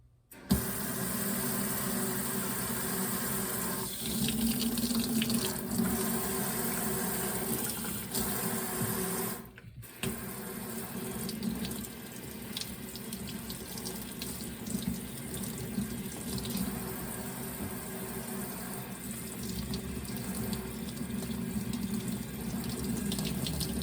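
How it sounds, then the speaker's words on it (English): Steady running water from a tap splashes continuously into a sink while rinsing dish soap off an eyeglass lens, for most of the stretch, with a brief break partway through. "repeat the step of rinsing your eyeglass lens to this time get the Dawn off"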